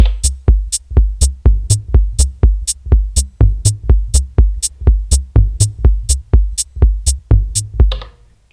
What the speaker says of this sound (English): I did a little drum loop, some minimal tech kind of stuff